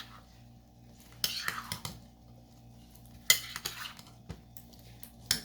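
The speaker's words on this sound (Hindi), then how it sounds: "मैं दूसरा चम्मच ले आऊँ, इसको मिक्स करते हैं" A spoon clinks and scrapes against a bowl as cream fruit chaat with apple and chickpeas is stirred together. The sharp taps come at irregular intervals over a low kitchen hum.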